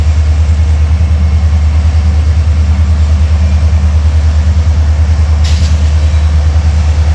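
A CSX diesel locomotive idles in a rail yard, its steady low engine rumble droning loud and unbroken throughout, with a brief hiss of air near the end.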